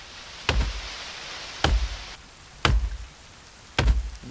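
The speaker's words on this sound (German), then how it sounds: "Ich fäll Bäume." Tree chopping in The Forest survival game: four heavy axe thuds on wood, evenly spaced about a second apart, close and loud, with no talk.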